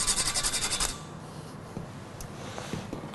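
A whole nutmeg is scraped across a grater for granola, giving a quick series of rhythmic raspy strokes that stop after about a second, followed by faint small handling sounds.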